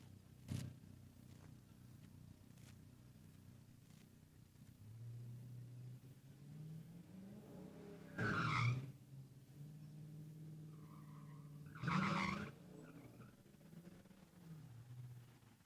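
A 2014 Ford Mustang drag racing down the strip: a distant engine drone rises and falls, with two louder revving surges as cars pass, set under faint track ambience.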